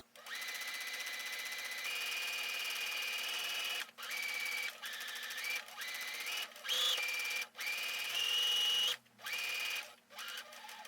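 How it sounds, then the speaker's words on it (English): A sewing machine stitches a sleeve seam on a mock neck bishop sleeve top, its motor humming in steady runs broken by short stops and restarts, close and moderately loud. "Okay, I'm going to begin sewing, and we are not back stitching."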